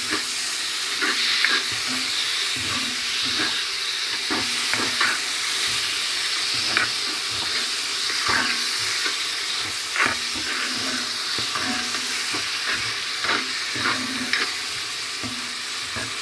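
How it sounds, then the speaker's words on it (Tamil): Onions sauté with spice powder for a Jaffna crab curry, a loud steady frying hiss close by with frequent rhythmic scrapes and taps of a spoon stirring the pan. "இப்படியே தூளோடு சேர்ந்து நல்லா வதங்கி வரட்டும்"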